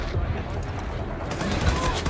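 Enemy soldiers in Wolfenstein II fire rapid bursts of gunfire, a crackling fusillade at moderate distance that swells toward the end, with a voice talking faintly over it.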